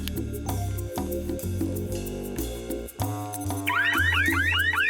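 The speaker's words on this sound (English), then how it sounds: "Bloody car alarm." A car alarm cycles through its patterns nearby: pulsing horn tones, warbling steps, then rising and falling whoops, loud and unbroken.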